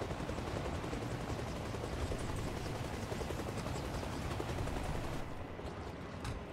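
A helicopter in the military shooter game Arma Reforger roars with a dense, steady rotor and engine wash that fills the whole clip, loud and continuous, then thins slightly near the end.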